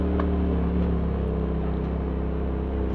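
A Polaris RZR XP Turbo side-by-side fitted with an RS1 clutch spring drives along, its engine a steady, loud droning hum that runs continuously without a break.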